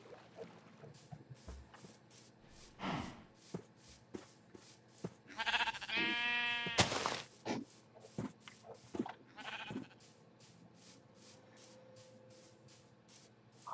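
Sheep in the Minecraft video game bleat in a few short calls, one loud burst near the middle, mixed with soft game shuffling and footstep sounds and no talking.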